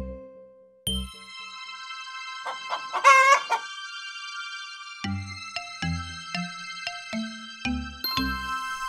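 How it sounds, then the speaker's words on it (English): Cartoon chicken sounds: a rooster crows loudly midway, surrounded by short clucks and bright ding-like chimes in a steady, clean sequence with no talking. "Chicken."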